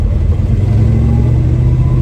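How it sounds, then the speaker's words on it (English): A 1968 Dodge Charger with a swapped Magnum 360 V8, new mufflers and headers rumbles at a steady low idle, deep and close, with no voices. "Yeah, I love the exhaust. We got some nice mufflers on it"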